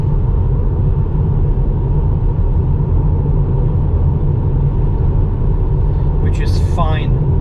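Steady broadband road rumble and tire noise from a Tesla Model 3 cruising at 100 km/h, continuous and loud throughout, with a brief voice near the end.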